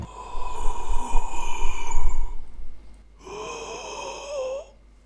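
A voice imitates heavy, labored breathing in two long drawn-out passes, loud and close with no words, the second breath ending in a raspy wheeze.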